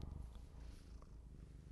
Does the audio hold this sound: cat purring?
yes